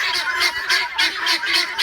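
Farm geese honking in a rapid run of loud, close calls, about eight bursts in under two seconds as the flock grows agitated, with no talking.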